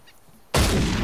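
A single loud, close gunshot fired at game while hunting over a ridge, an abrupt blast at mid-clip that sustains as a heavy roar to the end, with quiet before it.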